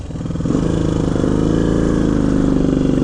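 A 1975 Moto Morini 3½ motorcycle engine runs steadily and smoothly close by, its pulsing throb building slightly in the first half second and then holding an even, loud note.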